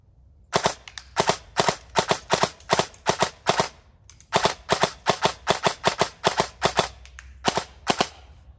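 A KWA BLR Mod 2 prototype airsoft rifle from Umbrella Armory fires a full magazine in two bursts of sharp, rapid semi-auto shots, each crisp crack close and loud, separated by a brief pause with no talking.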